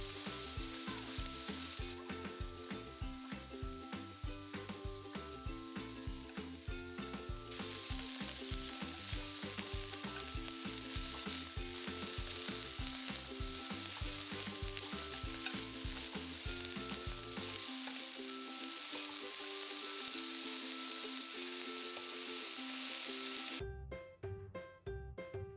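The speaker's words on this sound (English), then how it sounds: "Now add in the pea shoots. Stir fry for about 30 seconds." Pea shoots stir-fried over high heat, with a steady sizzle under music that runs the whole time and holds an even level before ending abruptly.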